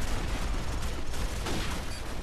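Dense, continuous burst of rapid gunfire in Call of Duty 4, a sustained noisy rattle with no pauses, fairly loud throughout.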